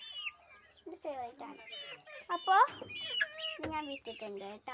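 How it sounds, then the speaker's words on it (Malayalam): Several chickens clucking and calling in a coop at feeding time, close and busy with overlapping bursts throughout, with a person talking intermittently over them. "അങ്ങനെ ഇവിടെ കുറേ കോഴികൾസൊക്കെ ഉണ്ട്."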